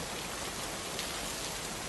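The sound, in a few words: heavy rain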